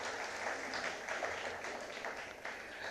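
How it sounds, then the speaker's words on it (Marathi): An audience at a stage event gives a sustained burst of hearty applause, dense and even throughout with no voices over it. "एकदा दोघांकरता आपण जोरदार टाळ्या वाजवूया"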